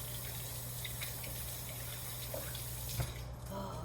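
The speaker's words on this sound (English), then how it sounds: "now I gotta wash my hands again." Hands are washed under a running kitchen tap after handling curry burger mix, with a steady hiss of flowing water and faint splashes throughout, close by and continuous, with no voices.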